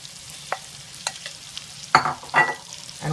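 Shrimp drop into garlic butter in a hot pan and fry with a crackling close sizzle, a few sharp spatula scrapes and spits standing out near the end.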